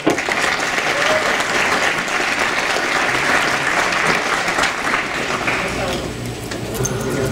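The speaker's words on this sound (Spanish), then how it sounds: "Así que recibámoslo con un aplauso, por favor." Audience applause at the Latino Music Conference Colombia welcomes a concert promoter, a dense, loud, steady burst of many hands clapping that holds for several seconds and eases slightly near the end.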